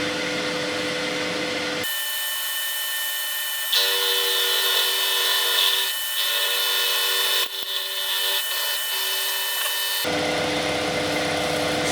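A small machine cuts a plastic medical equipment part, cutting from one direction only: a steady, close mechanical whine and grind that runs for most of the clip, with shifts in pitch and brief changes in load, and no talk.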